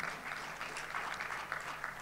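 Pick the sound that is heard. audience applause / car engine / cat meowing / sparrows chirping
audience applause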